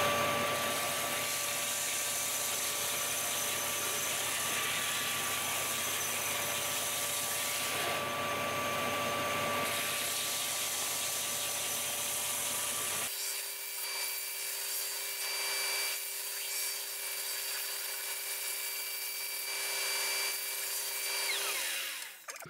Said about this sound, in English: the Ipe is particularly sort of brittle and it does splinter a lot, so something like a sander's good